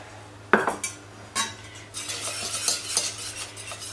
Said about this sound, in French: on va pouvoir verser petit à petit le beurre